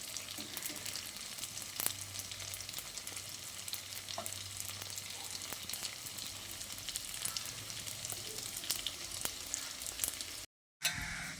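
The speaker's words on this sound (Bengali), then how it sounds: "গ্যাসের ফ্লেমটাকে হাইতে করে আরও কিছুক্ষণ ভেজে নিয়েছি।" Soybean chunks frying in hot oil in a pan over a gas flame turned up high, giving a steady, continuous sizzle throughout with occasional light stirring clicks, close and alone with no talk.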